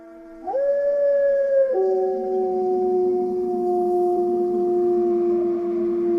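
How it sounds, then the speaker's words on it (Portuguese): A wolf howls loud and close in long sustained tones, opening with a rising note that steps down and then holds steady to the end, alone with no talk, on a full-moon night near a house. "todo mundo começou a ouvir uivos muito fortes vindos próximos à casa onde a Maria Silenciosa morava."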